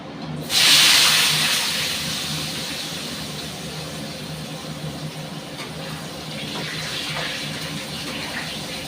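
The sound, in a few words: small whole potatoes frying in hot oil in a wok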